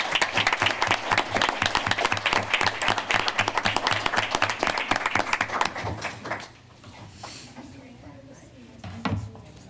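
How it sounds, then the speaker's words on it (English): Brisk applause from an audience at a school board of education meeting rings out for students, with rapid clapping that tapers off after about six seconds into murmuring voices and a few stray claps. "Let's give them applause."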